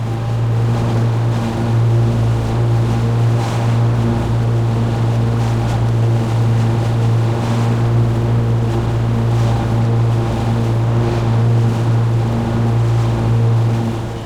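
Kubota Z781i ride-on mower with its deck set at 4 inches, cutting an acre of pasture: a loud, steady engine drone with constant low hum and whirring blades, unbroken throughout and heard close.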